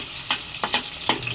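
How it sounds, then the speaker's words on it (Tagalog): Garlic sautéing in hot oil in a pan for pakbet, a steady sizzle broken by a few sharp stirring scrapes, close up with no voices. "Magsasaute muna tayo ng bawang,"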